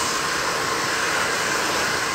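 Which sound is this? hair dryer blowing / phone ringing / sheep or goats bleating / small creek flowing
hair dryer blowing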